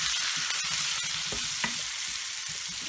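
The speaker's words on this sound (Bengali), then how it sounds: "প্রায় এক মিনিট ধরে এটা নাড়াচাড়া করবো" Prawns being stirred with spices in a frying pan, a steady close sizzle with scattered scrapes and taps of the spoon against the pan, no voices.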